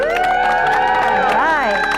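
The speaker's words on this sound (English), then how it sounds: "I want to hear you do a little applause or some cheering for this couple" Wedding guests cheering with loud whoops and shouts close by, high voices rising and falling over a steady crowd noise, light applause underneath.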